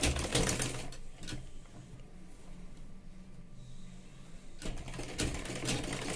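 A sewing machine stitches the lining sleeve of a blouse in short bursts, with quick rattling runs of the needle at the start and the end and a quieter hum between them.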